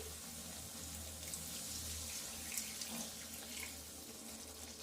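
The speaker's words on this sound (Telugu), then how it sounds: "నేనైతే ఒక గ్లాస్ వాటర్ అయితే పోసుకుంటున్నా" Water pours steadily into a glass with a soft, continuous splashing, quiet and close, with no voices.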